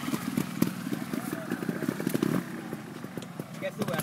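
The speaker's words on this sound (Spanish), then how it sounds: "Yo aquí con la moto, la subo del todo" A trials motorcycle revs and crackles as it climbs a slope at an amateur trial event, its engine rising and falling in short bursts under a voice speaking Spanish nearby.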